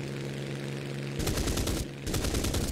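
Aircraft gunfire rattles in War Thunder as the player's plane is hit, two dense bursts of rapid, loud machine-gun fire over a steady engine drone, with a brief gap between them.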